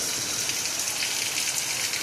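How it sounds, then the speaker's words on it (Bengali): Continuous heavy rain in a village, a dense, even hiss of falling water on surfaces, steady and unbroken throughout. "পুরো সারা দিন বৃষ্টি আর বৃষ্টি।"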